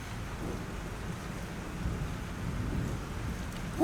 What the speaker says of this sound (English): This storm's real.